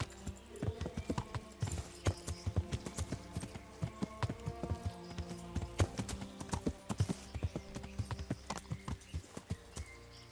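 Steady clip-clop of horse hooves trotting at a brisk, even rhythm in the video game Kingdom Come: Deliverance, close and fairly loud, with faint background tones.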